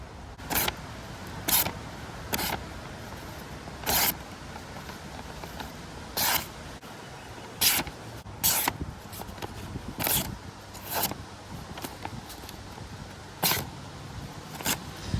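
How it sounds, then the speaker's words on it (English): A pocket knife blade slices through sheets of paper in a sharpness test outdoors on a windy day, giving a dozen or so sharp, crisp swishing cuts in a loose rhythm, close and clear with no talking. "the paper test, which is actually one of the best ways to test the sharpness of a blade right out of the box"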